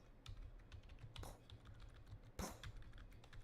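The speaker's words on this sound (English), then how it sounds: "Oh, you can hear you can hear the typing." Typing on a computer keyboard during a streamed play session of The Farmer Was Replaced, a quick run of soft clicky keystrokes with a louder key strike near the end, close and alone over a low hum.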